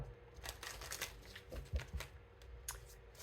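Tarot cards being shuffled by hand in a short, uneven burst of riffling and soft slaps, fairly quiet and close, with no talking.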